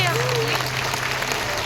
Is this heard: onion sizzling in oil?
no